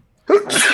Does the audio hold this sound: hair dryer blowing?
no